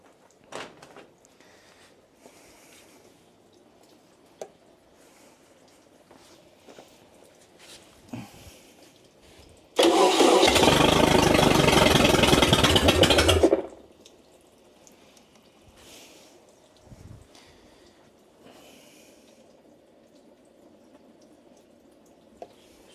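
A rebuilt 470 motor fires up after a pump of fuel and roars loudly for about three and a half seconds before cutting out, with quiet handling noises before and after.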